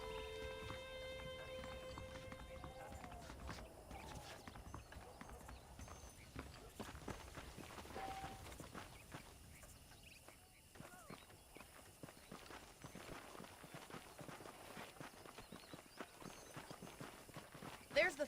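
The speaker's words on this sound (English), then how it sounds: "The horses are saddled up over here." Horse hooves clip-clopping in the video game Red Dead Redemption: a steady, moderately faint rhythmic clopping that continues throughout, mixed with ambient game sounds and a character's speech.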